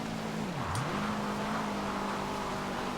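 Subaru Impreza rally car drifting in Forza Horizon 2, the engine drone dipping sharply as revs drop and then climbing back to a steady buzzing pitch, with a brief high squeal.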